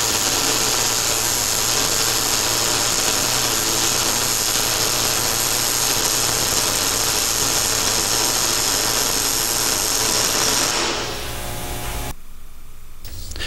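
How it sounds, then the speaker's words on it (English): A steady, even hiss from a MIG welding arc on a Miller MillerMatic 250 welder, loud and continuous for about eleven seconds before it cuts off. "Listen to the sound of the arc."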